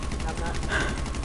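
Carbine rifle fire in GTA 5, a rapid, dense burst of repeated shots running continuously for over a second, loud and close, with a voice talking over it.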